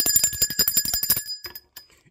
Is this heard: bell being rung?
yes